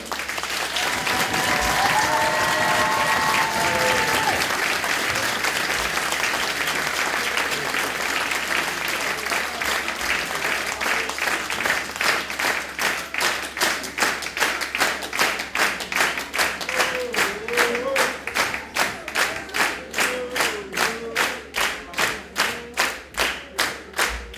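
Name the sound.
audience applauding dancers at a dance gala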